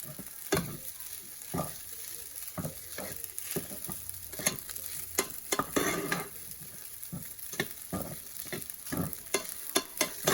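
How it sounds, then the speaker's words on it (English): Rice sizzling and frying in a pan, with repeated scraping and stirring clatters at an uneven rhythm over a continuous hiss. "So that's about a cup of rice that I'm frying up right there."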